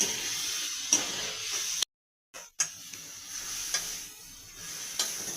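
Onion and tomato sauté in a pan until soft, a steady low sizzle broken by a short gap, with occasional utensil scrapes.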